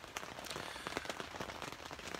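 Steady rain patters across a campsite, a dense, even spread of drops striking wet camping gear and surfaces, with no talking.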